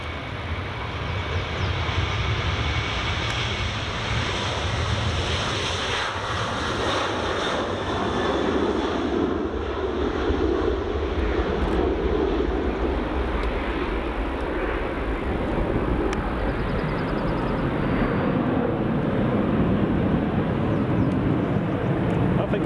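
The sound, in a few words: Ryanair airliner at Edinburgh Airport runway 24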